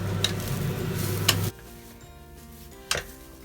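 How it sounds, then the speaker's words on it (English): Grated coconut sits in a hot pan, giving a loud, steady sizzle and hiss with a couple of stirring scrapes, then the noise drops to a faint hum broken by one more knock. "I have taken the grated coconut in the pan."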